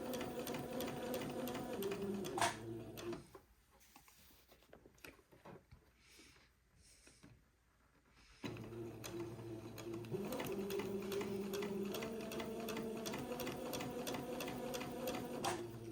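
A home sewing machine stitches a quarter-inch line around a garment armhole for setting in a sleeve, running steadily with a pause in the middle before the close, even motor whir and needle rattle resume.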